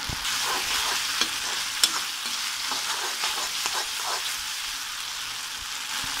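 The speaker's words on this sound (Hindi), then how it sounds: "गैस की आंच तेज कर दी है, अब हम इसे मिक्स करेंगे और थोड़ा पकाएंगे" Gobi Manchurian sauce sizzles and fries over a high gas flame while being stirred, giving a continuous close hiss with a few sharp scraping clicks from the spoon.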